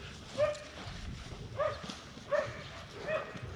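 A dog barks during a protection training session: four sharp, evenly spaced barks over about three seconds, fairly faint against a quiet outdoor background.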